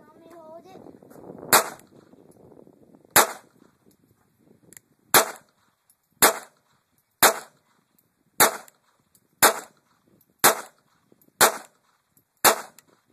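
A Sig Mosquito pistol fires ten single shots in a slow, even rhythm, each a sharp, close crack with a short ring-off, after a brief stretch of quiet voices at the start.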